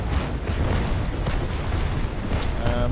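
Ship cannons firing in the age-of-sail naval combat game Naval Action, a dense rumbling barrage of heavy booms rolling together, loud and continuous over a few seconds.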